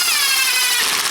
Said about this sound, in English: Just give them a couple taps with the impact.